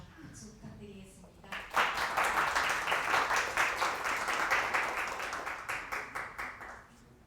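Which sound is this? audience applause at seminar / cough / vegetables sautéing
audience applause at seminar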